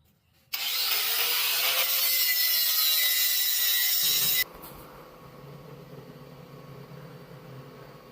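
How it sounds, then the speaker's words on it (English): A power tool strips paint from the metal of an engine lift, giving a loud abrasive whir for about four seconds, then a quieter rough scraping and rubbing that continues to the end, with no voices. "So, time to take some of this paint off."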